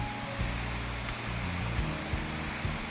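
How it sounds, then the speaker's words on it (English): Running water of a small stream with tiny cascades beside a hiking trail through hemlock trees, a steady broadband wash close by, with faint low rumbling beneath. "have a nice little stream beside us with running water"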